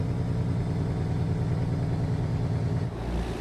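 A truck's engine brake on its stage 2 setting, a quieter level than stage 3: a steady, loud, low rumbling drone with pulsing harmonics that runs nearly unbroken, easing slightly near the end, with no voices.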